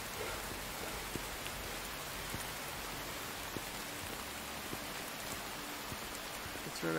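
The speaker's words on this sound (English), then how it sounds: "And the rain is falling upon us." Steady heavy rain falls continuously in the Jaws of Extinction video game, a dense even hiss that holds at a constant level for the whole stretch with no talk over it.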